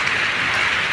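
Heavy rain falling steadily, a dense continuous hiss of drops hitting a surface, loud and close with no voices.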